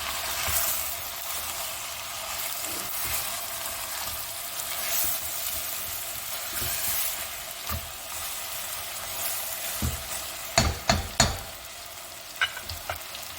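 Chopped onions for a mutton-with-almonds curry fry in a pan with a steady, loud sizzle throughout, broken near the end by a few sharp stirring scrapes and clinks.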